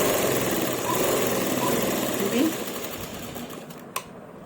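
A sewing machine stitches lace onto the edge of a dupatta, running in a continuous close whirring hum that cuts off near the end, followed by a single sharp click.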